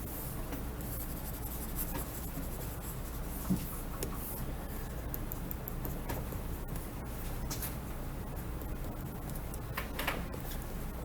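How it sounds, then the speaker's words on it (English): Marker or chalk strokes on a classroom board while math is written out, steady scratchy rubbing and tapping through the whole stretch, close and moderately loud over a low room hum, with no talk. "Let me just write that neater."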